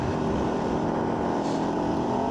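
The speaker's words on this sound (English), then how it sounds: "you would like your quad not to be so loud" A steady, loud quad bike engine drone with a throaty low rumble, constant throughout with no pauses or talking.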